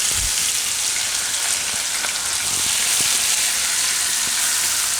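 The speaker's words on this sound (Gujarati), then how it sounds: "એમાં આપણે જીરું નાખીશું પહેલાં અને મરચાં અને લસણ." Cumin seeds, green chillies and garlic sizzle and crackle in hot oil as bottle gourd curry is started, a steady close frying hiss with scattered sharp pops, no talking.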